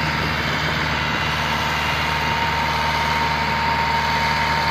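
A 2010 Massey Ferguson 240 tractor pulling a fully loaded trolley: a steady, loud diesel drone with low rumble and a constant whine, continuous and close with no voices.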